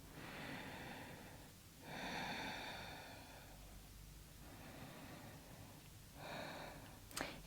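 Deep, slow breaths during a beginner yoga practice, with three long airy inhales or exhales sounding close and soft, each followed by a quiet pause and a brief sharp sniff at the end.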